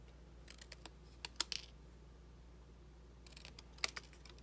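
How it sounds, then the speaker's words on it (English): Scissors snip through stamped cardstock to cut out a small hello greeting for a handmade mint box, giving quick, faint, sharp clicks in two short bursts against a quiet room. "So I'll just cut the little hello part out."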